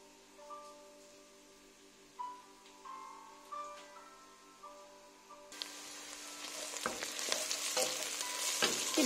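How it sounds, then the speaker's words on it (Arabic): Onions fry in a pan for Tunisian chakchouka: a quiet start with a few light clinks, then a close sizzling hiss that switches on partway through and grows louder toward the end. "كما تشوفوا البصل تاعنا قلى"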